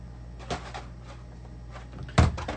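A cardboard shipping box is pulled open indoors: a soft thump, then a few light scrapes, and a louder flap knock near the end over a low steady hum.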